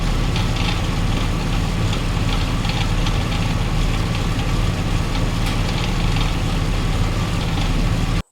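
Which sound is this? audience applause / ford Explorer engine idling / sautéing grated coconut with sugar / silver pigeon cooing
ford Explorer engine idling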